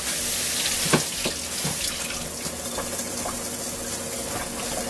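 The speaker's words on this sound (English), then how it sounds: "So I'm gonna wash it with some water." Running tap water at a kitchen sink rinsing a cut onion for a garden salad, a steady, close splashing flow with small clinks and no talking.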